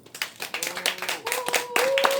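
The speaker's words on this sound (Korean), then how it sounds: "오늘 한번 힘찬 박수 부탁드리겠습니다" Audience at a gathering of residents and elderly supporters clapping in encouragement, building from scattered claps to steadier applause over a couple of seconds, with a voice faintly under it.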